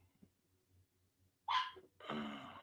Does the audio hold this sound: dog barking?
yes